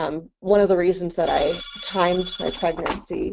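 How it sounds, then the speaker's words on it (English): A mobile phone ringtone chimes with bright, steady tones partway through, sounding under continuous close speech from a person talking. "sorry, that was my phone"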